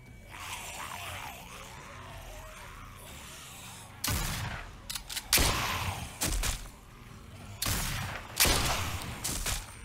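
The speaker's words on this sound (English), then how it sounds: "Damn, I'm good with this gun." Gunfire in The Walking Dead video game, a quiet stretch of low ambience and then a series of loud, sharp shots in clusters over the second half.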